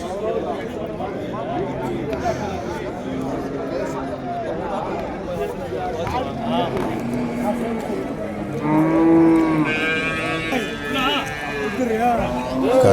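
Cattle and calves at a busy Vaniyambadi cattle market in Tamil Nadu moo repeatedly, with a long low bellow late on, amid crowd chatter and someone talking nearby.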